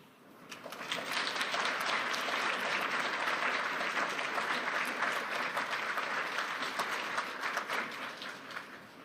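Sustained audience applause at the World Economic Forum in Davos greets Vice Premier Ding, building quickly and holding as a dense, even clapping from a large hall crowd before tapering slightly.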